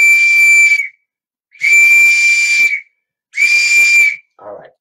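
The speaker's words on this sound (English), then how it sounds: "let me blow my old-fashioned police whistle." An old-fashioned police whistle blown in three long, shrill, steady blasts of about a second each, loud and close, separated by short silences, followed by a brief softer burst.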